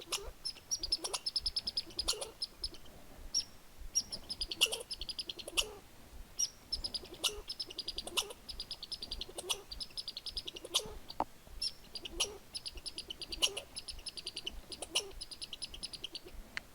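A red squirrel chattering near a lake, rapid high chirring bursts repeated every second or so at a steady rhythm, fairly faint and close, with no talk over it.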